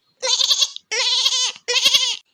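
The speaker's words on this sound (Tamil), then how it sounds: "ஆட்டுக்குட்டி கத்துது சீக்கிரம் தூக்கிட்டு போங்கண்ணே" A young goat bleats three times in a row, each call loud, close and wavering, with short silent gaps between them and no other sound.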